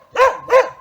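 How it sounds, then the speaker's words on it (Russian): A dog nearby, barking at a cat in a village garden, gives two sharp, loud barks in quick succession. "а вот Айда-то вон, на кошку-то вон как лает"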